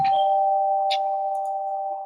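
A two-tone doorbell chime rings once, a clear ding-dong whose tones sustain and slowly fade, close and fairly loud against quiet.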